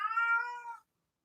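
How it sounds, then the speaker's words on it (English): An indoor pet cat gives a single drawn-out, clear meow, close and fairly loud, then falls silent. "I let my cat in a minute ago, and that was a mistake because now she's crying."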